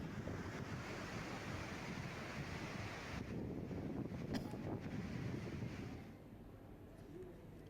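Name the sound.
water overflowing Hasnapur dam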